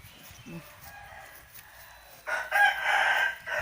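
A fighting rooster that has just won a bout crows loudly and close by while its face is washed with warm water, the crow rising after a stretch of quiet handling noises.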